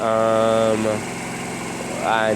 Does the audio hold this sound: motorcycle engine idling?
yes